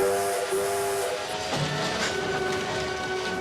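A steady rumble of the Kingston Flyer train with a sustained whistle-like tone running through it, continuous and fairly loud, with no voices.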